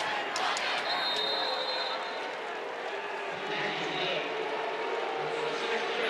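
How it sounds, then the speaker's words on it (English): A college football stadium crowd at an SMU versus Louisville game roars in a broad, steady wash of voices reacting to an officials' call, loud and continuous, with a broadcaster's voice faintly mixed in. "So the crowd with 6:39 to go, still letting the officials, and I guess the replay booth as well, hear their thoughts on this decision."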